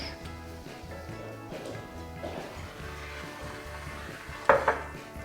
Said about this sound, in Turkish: Pekmez eriyene kadar karıştırıyorum.